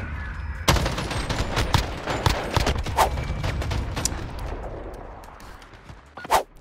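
Rapid bursts of gunfire from a gunfight video game: dense, loud volleys of shots and impacts, thinning to a few isolated cracks near the end, with no talk over them.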